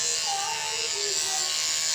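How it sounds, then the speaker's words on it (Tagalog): A Surker electric shaver runs continuously with a steady, bright buzzing whir held at close range for about two seconds, no talk. "Tinlay ko lang itong electric shaver."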